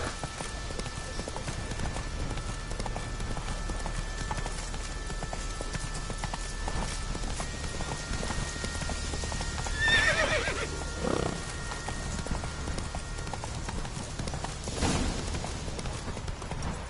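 Horse hooves clip-clop steadily in The Witcher video game, with a whinny and game ambience underneath and no talking.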